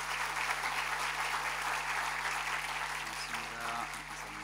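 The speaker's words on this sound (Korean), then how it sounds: "우리 박수로 우리 모시도록 하겠습니다" Sustained applause from a church congregation at a Sunday worship service as the pastor comes forward, a dense, even wash of clapping throughout with a steady low hum beneath and no voices.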